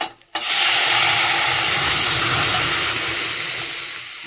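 Lentils tipped into hot oil with fried spice tempering set off a loud, steady sizzle and hiss that begins abruptly and slowly fades, close and alone with no talk.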